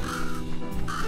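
A crow caws from the video game Little Kitty Big City, a couple of short harsh calls against a busy, tonal game soundtrack.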